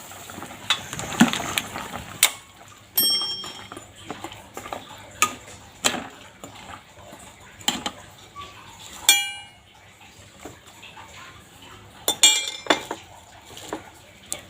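A cooking pot lid is opened while pots and utensils clink in a home kitchen during preparation of a Thai bamboo shoot clear soup, with sharp, scattered metallic knocks and chimes spread over several seconds, close and fairly loud.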